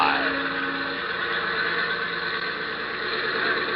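Small airplane engine droning steadily with a rough, whining edge, heard continuously at moderate loudness without pause, from a radio drama.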